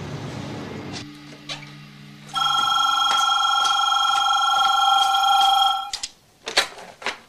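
A telephone rings in a German radio crime play: a long, bright electric bell ring lasting a few seconds, loud and close, preceded and followed by brief tones, clicks and handling sounds, with no talk.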